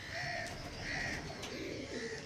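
Andhra Kalshira Punjabi high-flyer pigeons give soft, low coos against a constant hiss of background noise, the calls faint and intermittent.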